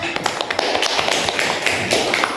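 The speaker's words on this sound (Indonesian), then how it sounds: "Aplaus dulu untuk temannya" Classroom applause for a classmate: a brief, steady patter of many hands clapping close by, dense and even for a couple of seconds.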